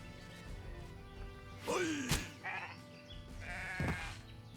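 A sheep in the Renowned Explorers video game lets out a wavering bleat, then a couple of shorter calls over quiet background game music, with no voices.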